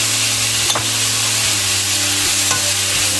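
Kimchi fried rice sizzling and frying in a pan, with continuous close crackle and occasional scraping stirs of a utensil against the pan.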